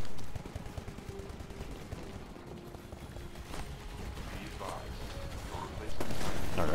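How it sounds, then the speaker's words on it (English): Gunfire in the video game Titanfall: rapid bursts of shots and clattering mechanisms under a player's talk, with a heavier burst near the end. "I'm just gonna shoot you because I missed, apparently"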